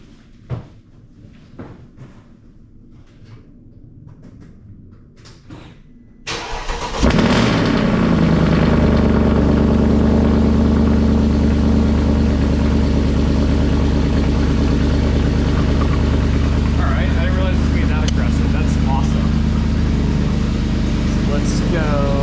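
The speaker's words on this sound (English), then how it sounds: "There goes the cold start cycle." A 2008 Mercedes-Benz ML63 AMG with its M156 engine does a cold start: a few quiet clicks and handling sounds, then the starter catches and the engine roars into a loud, steady high idle that holds.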